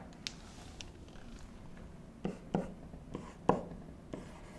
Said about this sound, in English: Nah, I'll just write it out here.